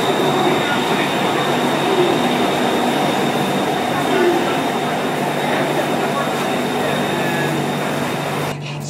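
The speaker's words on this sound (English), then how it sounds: "Let's go, my train is coming." A Bangkok BTS elevated Skytrain rumbles and rolls steadily into a station, a continuous loud drone of wheels on rails with a faint squeal, fading slightly at the end.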